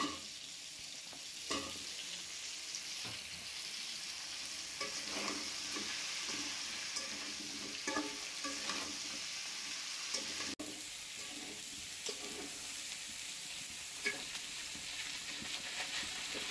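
Pointed gourd and potatoes fry in hot oil in a pan, giving a steady sizzle, while a spatula scrapes and stirs in irregular strokes, close and moderately loud.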